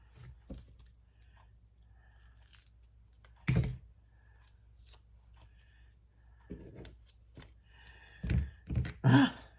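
Scissors snipping through paper at a card-making craft desk: a few sharp crisp cuts and rustles spread across the stretch, with a denser burst of close snips and handling noise near the end.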